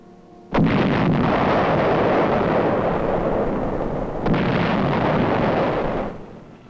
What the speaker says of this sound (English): The 155 Howitzer is zeroed in.